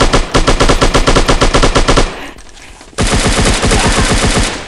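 Rapid automatic gunfire from enemies in a mobile shooter game, loud and continuous in dense bursts, with a brief lull of about a second before the firing resumes just as heavily.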